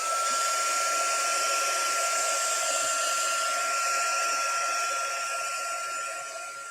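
A heat tool blows hot air across cardstock while heat-embossing a floating tent fold card, a steady loud whirring roar with a thin high whine that holds for several seconds and tapers slightly at the end.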